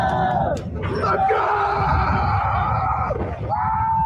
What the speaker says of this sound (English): What if the scream you hear at an amusement park isn't excitement